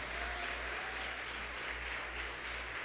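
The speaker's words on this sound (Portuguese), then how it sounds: "Vamos aplaudir a Jesus por isso" A church congregation applauds, steady dense clapping throughout, fairly distant and even, with a low hum underneath.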